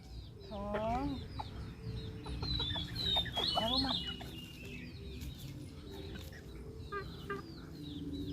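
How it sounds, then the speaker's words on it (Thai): Bantam chickens clucking and calling in short bursts, fairly close, with outdoor farmyard background noise throughout. "ไก่แจ้ของแม่ลุง"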